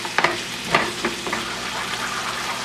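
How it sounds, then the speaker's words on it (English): Eggs scrambling in the middle of a hot pan beside other ingredients, a soft continuous sizzle broken by a few quick spatula taps and scrapes, close and unaccompanied by speech. "You can scramble them right in the middle just like that."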